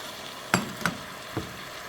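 Three sharp scraping knocks of a spoon against a pot while stirring red rice with beef and vegetables, spaced unevenly, close and fairly quiet over a soft background hiss.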